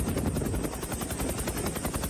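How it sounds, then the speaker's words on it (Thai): Helicopters flying during flood rescue operations around Hat Yai, a loud continuous rotor thump with rapid rhythmic chopping and engine whine, close and steady throughout with no voices. "สองวันหลังนี่เราจะเห็นปฏิบัติการด้วยการใช้เฮลิคอปเตอร์เยอะมาก"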